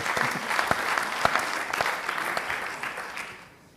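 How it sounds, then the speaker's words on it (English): An audience at a talk on valuing natural capital breaks into a short burst of lively applause that fades out after a few seconds. "A round of applause also for doing that in 3 minutes."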